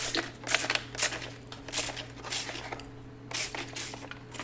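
Several short bursts of hissing spray from a pump bottle onto hoya plant stems, spaced irregularly, close by and moderately loud, with a steady low hum underneath.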